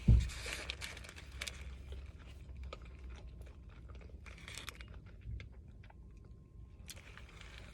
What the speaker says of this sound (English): I'm going to take another bite.